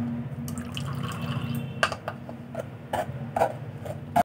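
Raw mango pulp being pressed through a sieve gives soft wet drips and small clinks and taps, close by and fairly quiet, over a steady low hum.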